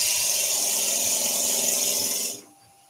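A drill bores into wood while making wooden flowers, giving a loud, sustained high-pitched whine with a gritty rubbing undertone that cuts off abruptly near the end, leaving quiet room sound.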